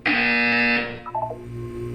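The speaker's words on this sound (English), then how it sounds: "You will hear a buzzer." A harsh electronic buzzer from the Portal 2 video game sounds in one loud, steady blast for under a second, then cuts off, followed by faint tonal blips and quiet room tone.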